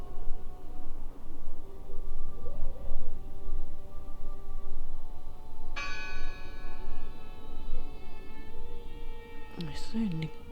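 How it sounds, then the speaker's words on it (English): A church-style bell in the horror game Draugen tolls with a strong, ringing strike that hangs and decays slowly, a second clang coming near the end, over a steady ambient hum. "Listen! The bell!"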